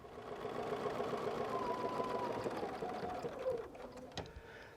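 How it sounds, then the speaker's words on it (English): A sewing machine stitches steadily, backstitching several times on a quilt pocket, a quiet continuous mechanical whir that slows and stutters near the end. "I'm going to backstitch several times here at the top"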